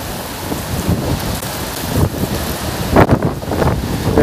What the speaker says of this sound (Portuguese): isto é um trovão, não é eletricidade.